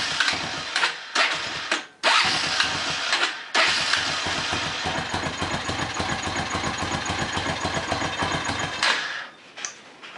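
A Honda Foreman ATV engine that won't stay idling runs roughly, stuttering and cutting out several times before catching again into an uneven, sputtering idle that dips near the end.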